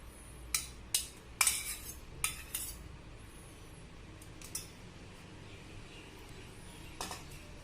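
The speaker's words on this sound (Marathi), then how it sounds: "2 चमचे दही टाकू आपण" Homemade curd spooned into a bowl with a metal spoon, giving a few sharp clinks and scrapes early on and then sparse, quieter taps in a still kitchen.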